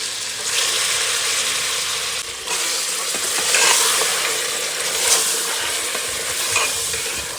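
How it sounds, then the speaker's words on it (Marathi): Mutton hits a hot pan and sizzles steadily, with scraping stirs and a few louder bursts of frying as the meat is moved around, close and without talk. "आता आपण मटण टाकून घेऊ असा आवाज आला पाहिजे"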